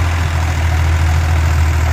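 A tractor engine runs steadily at idle with a deep, constant rumble and even throb, close and loud, with no voices over it.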